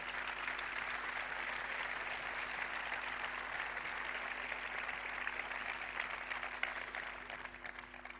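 Steady applause from an audience at a sports awards ceremony honoring women in sport, a continuous even wash of clapping at moderate distance, fairly quiet and sustained throughout with no break.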